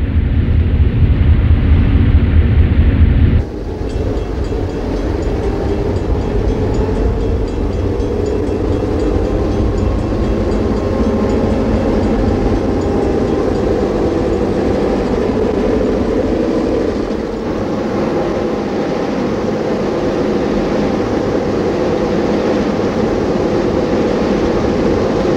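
An Illinois Central passenger train with a wreath on its lead engine rolls past on its last day before Amtrak took over, a loud continuous rumble and clatter of railcars that holds steady for over twenty seconds, with no talking.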